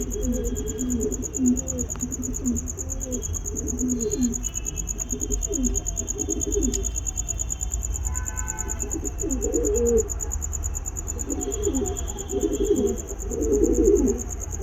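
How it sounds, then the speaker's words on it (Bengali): Soft, repeated cooing of Kalanga pigeons at a pigeon shelter, a steady series of low calls running through the clip over a constant high electrical whine and faint chirps. "কালাঙ্গা পায়রা দেখতে পাচ্ছেন"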